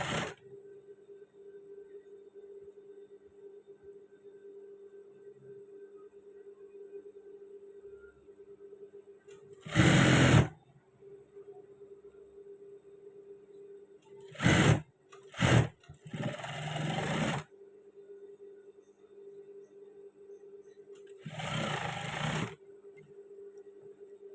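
A sewing machine stitches trousers in short separate bursts of loud whirring, several runs of a second or two each, over a steady low background hum.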